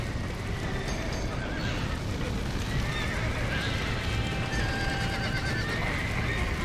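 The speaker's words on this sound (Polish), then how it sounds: "trzeba konie ratować" Horses in the Red Dead Redemption game whinny and neigh repeatedly over clip-clopping hooves and a dense, rumbling background, the calls loud and close throughout.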